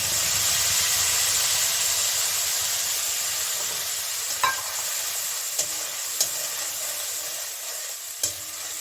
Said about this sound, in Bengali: যে মশলাটা পেস্ট করে রেখেছিলাম এই মশলাটা দিয়ে দিচ্ছি